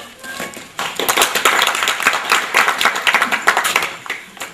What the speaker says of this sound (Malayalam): ഒന്ന് ക്ലാപ്പ് ചെയ്യണേ.